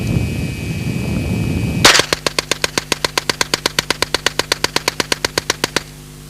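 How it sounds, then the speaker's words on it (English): An Alan Halla 1977 experimental low-recoil submachine gun, held upside down and loaded with Federal ammunition, fires one long, evenly spaced automatic burst of about thirty loud rounds after a brief low rumble. "I'm going to try to shoot the gun now upside down, see if the weapon will function."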